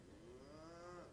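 Church congregation members grunt together in imitation of cattle, producing a drawn-out, lowing moo-like tone that swells and bends in pitch. The sound is fairly quiet against a hazy background.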